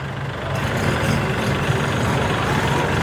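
A small three-cylinder four-wheel-drive tractor with nine forward and nine reverse gears drives nearby, its steady low engine drone continuous and fairly loud throughout, with faint voices in the background.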